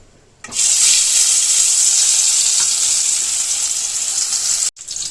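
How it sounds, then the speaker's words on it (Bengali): Eggplant slices hit a smoking-hot wok greased with ghee and burst into a loud, bright, hissing sizzle that holds steady for several seconds, then cuts off abruptly, close up and without speech. "বেগুনগুলো লাল লাল করে ভাজা হতে থাক"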